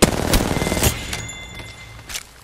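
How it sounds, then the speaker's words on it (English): Rapid automatic gunfire in Apex Legends, loud and close, with dense bursts of shots in the first second that then thin to scattered quieter shots. "Getting shot at."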